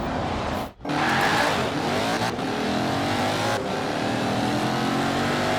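A Bowler EXR S off-road supercar roars hard under acceleration, with a sharp drop in engine note near the start like a gear change, then a continuous loud, close engine howl.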